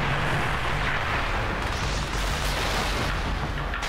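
Continuous heavy gunfire and explosive booms fill a Halo 3 battle, dense and loud throughout with no clear gaps and no voices.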